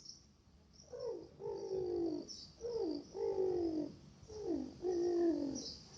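A pigeon coos three times in soft, throaty two-part calls, close and clear, with a faint high whistle in the background.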